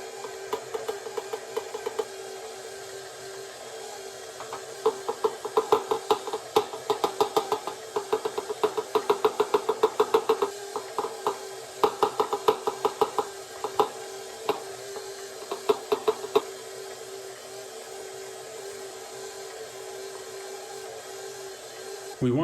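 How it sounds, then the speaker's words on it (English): Stand mixer with its paddle attachment working spices into ground meat for spicy Italian sausage, a steady motor hum under bursts of rapid knocking and slapping that come and go, close up. "We want to run the mixer for a couple minutes until the meat gets sticky and binds together"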